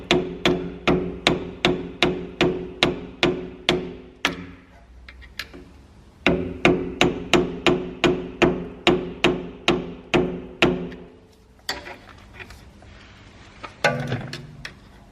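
A hammer bashes a screwdriver set in a notch of a seized coilover adjusting ring: two long runs of sharp, evenly paced metallic strikes close by, then a few scattered, irregular blows.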